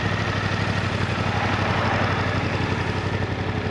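A Suzuki GSX-8R motorcycle engine idles at a standstill, giving a steady, close, loud rumble with an even low throb throughout and no voices.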